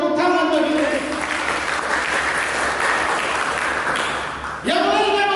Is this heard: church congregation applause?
yes